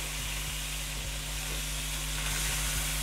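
Three large tomatoes sizzle in a hot pan with oil for restaurant-style mutton katakat, giving a steady close frying hiss with faint low hum beneath and no voices.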